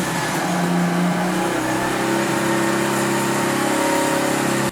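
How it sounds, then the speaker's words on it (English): A Mazda RX-8 rotary engine with newly installed headers fires up and settles into a loud, steady idle, its hum holding close and even to the end with no voices. "time to start up the car"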